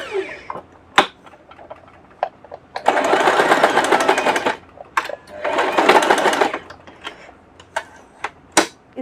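An electric sewing machine stitches the neck of a ready-made suit in two steady, whirring runs of several seconds each, with sharp clicks and knocks from handling the fabric between and around them, close and without talk.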